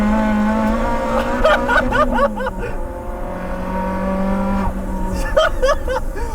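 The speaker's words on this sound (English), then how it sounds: "we're going to do a roll race now." A Mark 5 Corsa roll-racing BMW drag cars outdoors, engines revving hard and climbing through rapid gear changes, loud and close, with cheering voices over the top.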